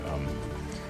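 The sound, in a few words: rain falling in a garden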